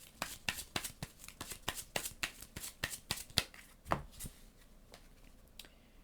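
Playing cards from the Marvel Legendary deck-building game are handled and drawn, producing a quick run of soft, close snapping and riffling flicks that slow and fade toward the end.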